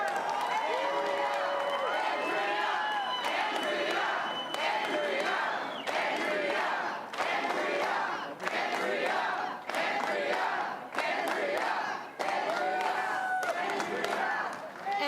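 An election night crowd at a 2018 Ontario election event cheers and shouts in repeated loud bursts, rising and falling across the whole stretch with some clapping, filling a large room.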